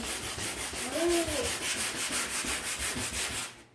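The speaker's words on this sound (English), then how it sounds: "I'm just going to give it a quick sanding here" Rhythmic back-and-forth sanding on a wooden butcher-block cutting board with a sanding block, a steady scratchy rasp repeating in even strokes, close and fairly quiet, ending abruptly.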